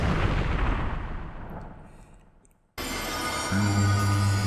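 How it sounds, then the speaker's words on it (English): A bomb explodes in The Wind Waker HD, a loud rumbling blast that decays over about two and a half seconds, cut off abruptly and followed by a sustained game ambience with a low tone. "chuck our third, and hopefully the final bomb in there,"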